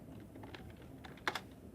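Typing an MS-DOS move command on a computer keyboard, soft scattered keystrokes ending in two sharper, louder key presses close to the microphone, with no speech.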